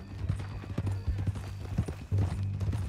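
Hooves of a horse in Red Dead Redemption 2 clip-clop in a steady, close rhythm for a few seconds, with a low game ambience beneath.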